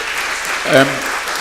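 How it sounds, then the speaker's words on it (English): Brief burst of audience applause at a DIAlogues 2014 event, a dense wash of clapping that swells for a moment and stays moderate, with a faint voice briefly audible underneath. "Let's give them a round of applause for the first round."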